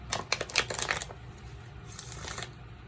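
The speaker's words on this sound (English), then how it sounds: "look at how this deck shuffles" A tarot deck riffle-shuffled in a quick burst of fluttering snaps, followed by a softer second riffle, close and clear with no talking.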